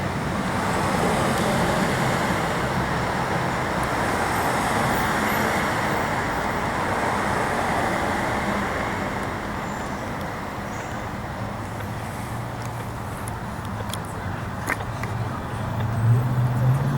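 A car driving through street traffic in New Orleans, a dense continuous road roar and tyre hiss holding steady throughout, with a low vehicle rumble rising near the end.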